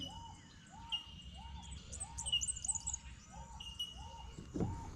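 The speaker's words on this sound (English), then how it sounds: "Bellbirds." Bellbirds call in a sunny outdoor setting beside water, with a repeated series of short, bright arcing notes at a steady rhythm. The notes are moderately near and sit over a constant insect drone.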